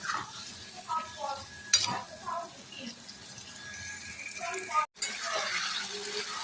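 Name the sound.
sautéing potatoes with spices and tomato in a pan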